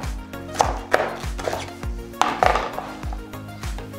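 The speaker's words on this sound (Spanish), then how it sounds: "cogemos nuestras últimas lechugas, lo juntamos de este modo y lo picamos" Lettuce gathered into a bunch is chopped with a knife on a board, about a dozen firm, evenly spaced thuds with crisp leafy crunches, close and alone.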